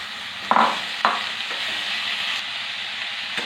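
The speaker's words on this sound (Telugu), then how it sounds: "పొట్లకాయ వేసుకున్నామండి." Squeezed snake gourd pieces hit a hot pan for a milk and moong dal curry, giving two sharp sizzling bursts close together, then a steady, close frying hiss with no talking.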